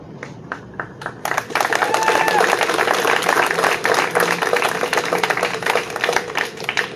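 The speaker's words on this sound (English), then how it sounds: "I would ask you to hold your applause" Audience applause at a solidarity vigil in Ottawa swells into sustained clapping from a crowd after a few scattered early claps, with a voice speaking over it.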